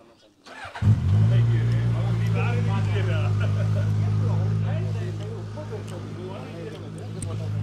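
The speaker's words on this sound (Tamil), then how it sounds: "இன்ஜினை கோல் ஸ்டார்ட் பண்ணி ஸ்டார்ட் பண்ணி வச்சுருக்காங்க" A Suzuki GSX 1000 motorcycle engine cold-starts with a sudden burst, then settles into a loud, steady, close-up idling drone that runs throughout, with voices talking over it.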